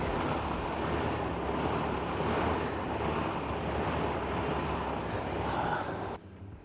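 An air bike's fan spins steadily during a cardio workout on the new air bike, producing a continuous close whooshing rush of air that holds even and stops abruptly near the end.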